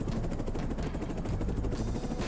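Helicopter in a video game used to carry loads from one point to another, a continuous loud rotor thrum with steady low rumble and rapid chopping pulses throughout, alone without talk.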